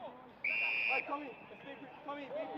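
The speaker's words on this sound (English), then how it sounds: "And a whistle, that'll be a 50-metre penalty." A referee's whistle at a WAFL Colts Australian rules football match between Swan Districts and Peel Thunder gives one short shrill blast under steady commentary.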